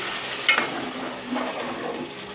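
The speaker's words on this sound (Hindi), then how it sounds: "अब हम इसमें ऐड कर रहे हैं पानी।" Water pours and splashes into a pot of beef for pulao, a short gush followed by softer trickling and sizzling, close and moderately quiet with no talking.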